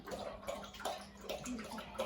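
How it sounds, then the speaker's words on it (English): A dog laps water steadily from a bowl, close and clear, with a soft rhythmic wet gurgling that carries on throughout. "look at him drink that water"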